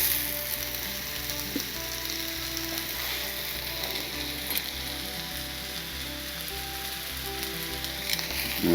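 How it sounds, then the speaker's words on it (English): Onions sizzle and brown steadily in a pan while chicken marsala is cooked, a constant close frying crackle with occasional faint stirring clicks. "Now we're starting to get a little brown going on some of these onions."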